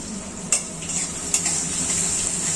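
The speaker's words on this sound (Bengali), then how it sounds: "এখানে পেঁয়াজটা ভালো করে ভাজা হবে" Onion fries in a pan with a steady, bright sizzle, while a utensil stirs it twice in sharp scraping knocks against the metal, close and alone without talk.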